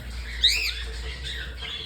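Pet cockatiels at home, a single short shrill squawk up close followed by fainter chirps over a low steady background hum.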